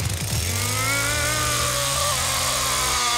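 A chainsaw in The Texas Chain Saw Massacre video game revs loudly and close, its engine pitch climbing and holding a high sustained whine over a steady low drone, with no talking over it.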